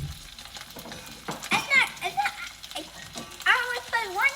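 Wontons frying in a pan as a four-year-old stirs them: a soft, low sizzle that is mostly buried under a child's chatter and an adult's voice.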